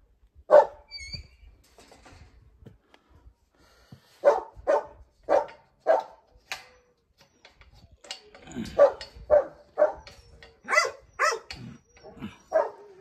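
Several loose dogs barking in short, sharp bursts, some near and loud and others fainter, with irregular gaps between the volleys and a few higher yips mixed in.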